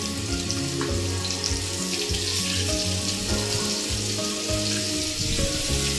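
Fish pieces frying one by one in hot soybean oil in a kadai, a steady loud sizzle and crackle running throughout with scattered spatters and faint utensil clinks.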